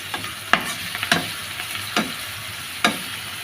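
Onion with ginger-garlic paste fries in a pan with a soft continuous sizzle, broken by four sharp spatula scrapes and taps at uneven intervals, close by and with no talking.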